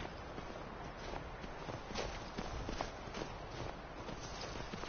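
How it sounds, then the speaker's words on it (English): A horse in Skyrim clops along at a walk, its hooves giving a steady, fairly faint run of soft thuds over a muffled, noisy background with no talking. "A horse!"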